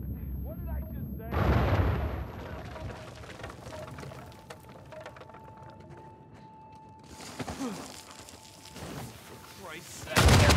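Booming explosions and crackling gunfire in Uncharted 4, with a heavy blast near the start and another swell late on, separated by a quieter stretch of rumbling debris and scattered pops.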